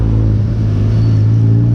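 A Honda Civic drives past on a Quezon City street with its engine revving, a loud, close, steady low rumble that fills the whole moment.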